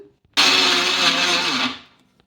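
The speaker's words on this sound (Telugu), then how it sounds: "ఇప్పుడు వీటిని మిక్సీ పట్టేసుకుందాం" A mixer grinder coarsely grinding flattened rice whirs loudly and steadily for over a second, then winds down as the motor stops.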